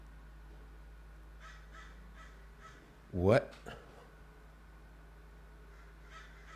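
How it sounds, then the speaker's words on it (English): Crows outside a window let out one harsh, loud caw and a shorter follow-up, over a steady low hum, with quiet speech nearby. "They got these crows outside my window."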